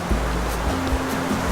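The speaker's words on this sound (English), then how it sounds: "the river is right down here to my right" The turquoise San Rafael River in Antioquia, Colombia, flows nearby, a loud, continuous rushing roar of water with low rumbling surges and no voices.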